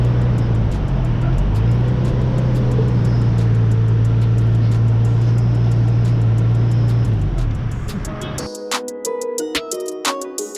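A rebuilt Nissan R32 engine drones steadily from inside the car on a drive, loud and constant with a low steady tone, then cuts off near the end into quieter clicking and tonal chimes.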